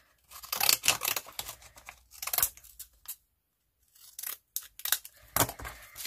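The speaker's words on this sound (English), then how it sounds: "I'm just using a pair of these fancy edge scissors just to cut around." Fancy edge scissors snip around embossed card stock in quick bursts of close, crisp cutting, with short pauses between runs of snips.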